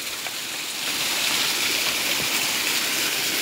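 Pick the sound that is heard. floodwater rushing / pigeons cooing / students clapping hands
floodwater rushing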